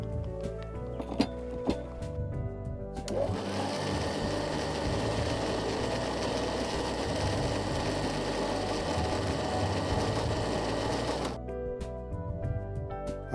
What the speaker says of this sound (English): And we're going to blend all together.